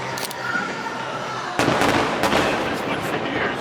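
Fireworks at the Honda Celebration of Lights festival in Vancouver, a show by Team Quebec, with crackling bursts and a sharp louder volley partway through, booming and sizzling continuously into the distance.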